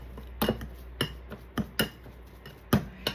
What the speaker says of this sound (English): So I'm just quickly chopping my eggs here.